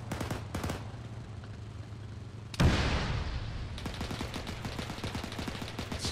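Gunfire in the video game Arma 3, with a Sherman tank nearby: a few sharp shots early, then a loud blast followed by rapid, steady bursts of automatic fire.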